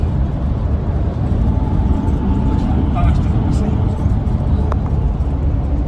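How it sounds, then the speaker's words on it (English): Traffic rumbles steadily on a road, with a lorry going by among other vehicles, constant low engine and tyre noise filling the scene, with faint voices in the background. "That lorry looked like it was gonna fall apart."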